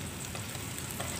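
Spice paste being stir-fried in a pan, a steady, close sizzle with faint scraping as it is stirred, running continuously throughout.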